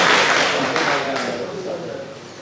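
Audience applause welcoming poet Farooq Azhar at a poetry gathering, a short burst of many hands clapping that starts strong and fades over a couple of seconds.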